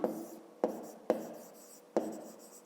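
Marks written out during a maths lesson, four distinct sharp taps of a pen or chalk, each followed by a short scratching stroke, spaced about half a second apart in a quiet room.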